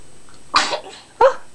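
A person sneezes indoors in a child's room, two sharp, close bursts about half a second apart, loud and abrupt against a quiet background.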